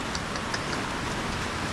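Rain falls steadily in a rural Philippine cattle area, a constant close hiss with faint drips, no voices.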